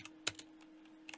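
A pet lands on a computer keyboard, pressing keys in a few quiet, scattered clicks and taps with a steady low hum underneath.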